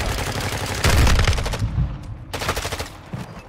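Automatic gunfire in the shooter game Call of Duty DMZ, heard as two loud rapid-fire bursts with a heavy low thump in the first, followed by scattered quieter shots.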